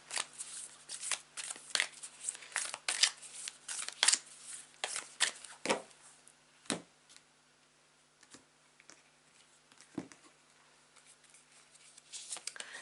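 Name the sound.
shuffling a deck of tarot cards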